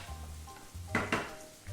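Chopped garlic, ginger and green chillies frying in a pan for makai bharta, a soft continuous sizzle with a couple of brief stirring scrapes of a spoon against the pan, fairly quiet and close.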